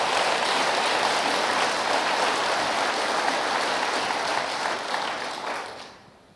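A conference audience applauds at the closing session of DrupalCon Vienna 2017. The clapping is dense and sustained, then tapers and fades away over the last second or two. No one talks over it.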